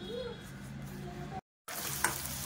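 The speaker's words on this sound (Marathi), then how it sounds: "छानपैकी कडक असा क्रिस्प असा हा कांदा शिजवून घेऊया. तळून घेऊया." Onion fries crisp in hot oil over a high gas flame, giving a soft, steady sizzle that briefly drops out and then returns louder and brighter, with faint background clatter.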